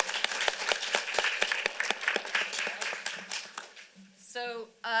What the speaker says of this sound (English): Everyone, let's give Jupiter a round of applause.